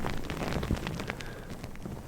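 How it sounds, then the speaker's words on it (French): Foam crackles and fizzes close by behind the back of the neck, a dense steady hiss of tiny pops with no voice over it. "Une mousse qui vient crépiter comme ça à l'arrière de ta nuque."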